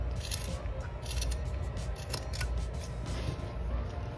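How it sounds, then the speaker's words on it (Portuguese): Scissors snip through macramé cord while trimming a small multipurpose AirPods pouch, giving a string of crisp, close cuts over a steady low background hum. "Vou cortar aqui mais curtinho. Só que eu vou cortar em V."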